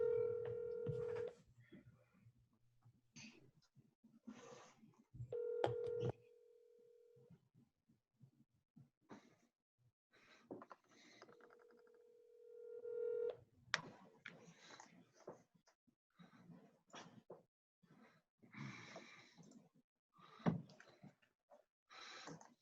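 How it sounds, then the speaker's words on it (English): Telephone dialing and ringing on a public comment call at a government work session: repeated steady ring tones in separate bursts, with scattered quiet clicks and faint noise between them. "I have two, and I'll dial the first person."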